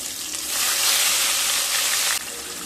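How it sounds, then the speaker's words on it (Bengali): Chopped medium tomato hits hot fish-frying oil seasoned with black cumin for a mustard pabda curry, giving a loud, steady sizzling hiss that swells and then drops off abruptly. "একটা মিডিয়াম সাইজের কেটে রাখা টমেটো দিয়ে"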